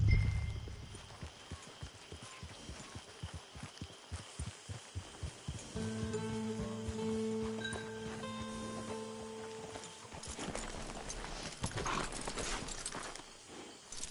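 Horse hooves clip-clop in a steady walking rhythm in Red Dead Redemption 2 Online, then fade as a sustained musical tone and soft ambient sounds take over.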